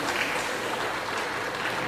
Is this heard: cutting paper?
no